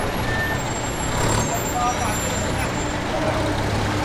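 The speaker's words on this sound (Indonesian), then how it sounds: "Ini truk-truk muatan sembako maupun material lain sudah mulai masuk ke dalam." Loaded trucks carrying groceries and building materials rumble into a ship's hold, giving a dense, steady low engine drone with clanks and air-brake hisses in an enclosed space. People talk throughout.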